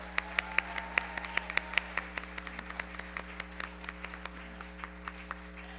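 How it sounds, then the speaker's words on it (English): Scattered clapping from the audience at the 2023 Miss Universe Cayman Islands pageant, a thin run of separate claps that fades slightly over time above a steady electrical hum. "Please, can we all give Chloe a round of applause and a heartfelt welcome"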